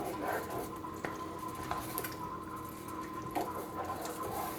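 A spoon scrapes and clinks against a pot while Charleston red rice is stirred, with soft wet shuffling and a few sharper taps close by.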